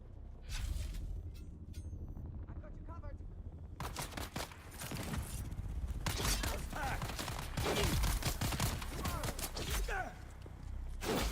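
Rapid video game gunfire bursts loud and dense, repeated volleys from about four seconds onward over constant game noise, with a player talking throughout.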